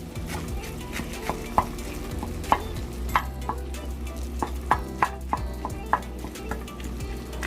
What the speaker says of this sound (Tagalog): kumukulo pa yung olive oil niya